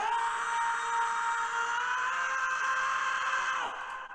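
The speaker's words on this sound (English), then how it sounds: "So this is the scream." A sustained scream sound effect plays alone during a mix session, a long steady high-pitched wail that holds for several seconds and then slides down and cuts off.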